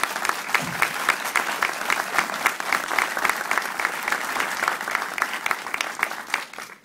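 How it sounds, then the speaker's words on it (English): Steady audience applause fills a ceremony for signing a concussion bill in Florida, dense clapping from many hands that carries on without a break at an even level. "Let's give them a round of applause for their support"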